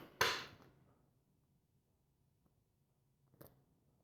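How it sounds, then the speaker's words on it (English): A deck of tarot cards being cut: one sharp, close riffle-snap of cards at the start, then near silence, followed by a second softer card tap a few seconds later. "Okay, I'm going to cut the deck."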